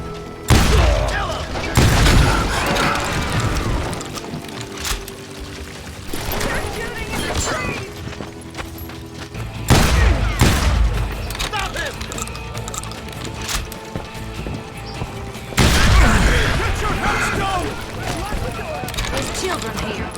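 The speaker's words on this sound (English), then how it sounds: "I was just glad I had Deputy Bob's mean-ass shotgun." Shotgun blasts from Deputy Bob's shotgun in the video game Call of Juarez: Gunslinger, three loud booming bursts spaced several seconds apart over a busy game soundscape with a voice talking.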